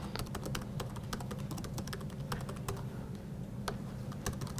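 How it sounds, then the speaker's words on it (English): Rapid, uneven keystrokes on a computer keyboard as login credentials are typed in, close and crisp over a low steady hum, with no voices. "I'll type in my credentials"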